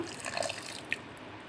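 Lemon juice trickles into a mixer jar holding jaggery for homemade sugarcane juice, a faint, brief liquid splash with a couple of small drips.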